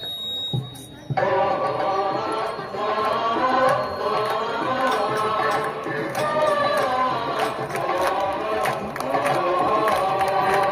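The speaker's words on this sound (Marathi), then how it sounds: "वेलंकरी मातेचं गीत ह्या ठिकाणी वाजवलं जाईल, त्यावेळेस आपण मोठ्याने टाळ्या वाजवणार आहोत" A large crowd at the Velankanni Mata festival at Christ the King church in Malighogargaon claps along loudly to a hymn, with dense, continuous clapping and chatter blending with music and voices throughout.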